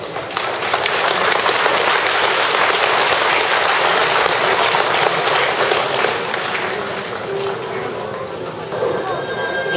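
A crowd at a Korean Buddhist dharma-name conferral ceremony applauds loudly in a dense, continuous clatter of clapping. It holds steady for most of the stretch, then eases slightly toward the end.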